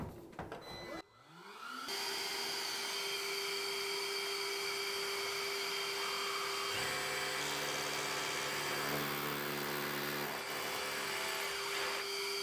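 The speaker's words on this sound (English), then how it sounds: "So all you would do is use it normally as a drill. Obviously you've got to press the Hoover on at the same time when you're using it." A power drill with a Hoover vacuum attachment runs steadily and loudly, a continuous whine layered over the vacuum's roar, its pitch shifting as the bit bites into the workpiece.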